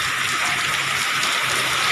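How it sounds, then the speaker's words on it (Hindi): Heavy torrential monsoon rain pours in a dense, steady hiss, loud and continuous with no talking. "बहुत तेज़ बारिश हो रही है"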